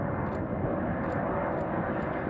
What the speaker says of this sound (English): the plane taking off from PVD